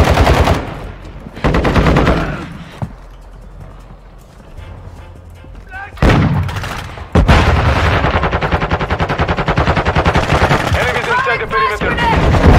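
Rapid automatic gunfire bursts from Call of Duty Modern Warfare 2 on the Shoot House map, loud repeated volleys broken by short quieter gaps, with game sounds and voices mixed in.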